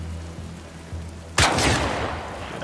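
A single loud, sharp gunshot from The Last of Us Part II rings out close with a rumbling decay, following softer thuds and background ambience; no talking.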